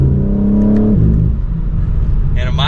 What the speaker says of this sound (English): And a mild acceleration.